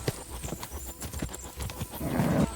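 Horses in the medieval video game Kingdom Come: Deliverance 2 clatter along at speed, hooves drumming steadily up close, and a neigh rises near the end over rushing wind and game ambience.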